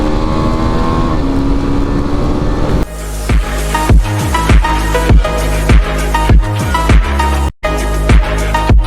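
A KTM 390 Adventure single-cylinder motorcycle revs hard and accelerates; after a steady drone it runs through a quick series of rising gear pulls with sharp shift breaks, loud and close, with no voices.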